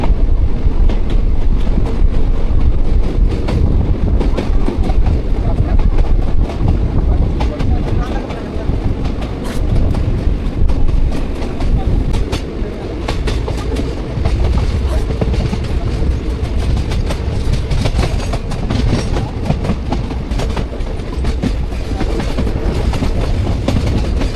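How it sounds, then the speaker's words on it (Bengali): The 12347 Shahid Express passenger train rolls steadily and loudly through a station for a long stretch, a continuous rumble with rhythmic clatter of wheels, heard from on board. "আমাদের ট্রেন পার করছে ঝাপাটের ডাল স্টেশন।"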